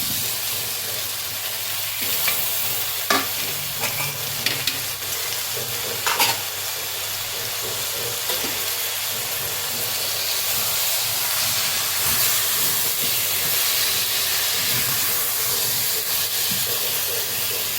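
Chopped tomatoes fry with ginger garlic paste in a pan, giving a loud, steady hiss and sizzle that fills the whole stretch, with occasional clicks and scrapes from stirring near the start.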